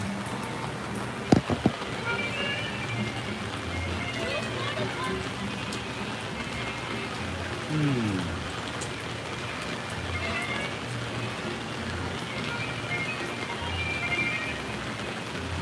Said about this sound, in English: I wonder if the rain will subside